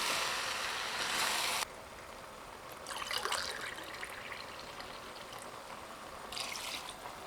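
Water trickles and pours steadily into a pot of rice for mushroom biryani, with a brief louder gush at the start and splashy bursts midway and near the end.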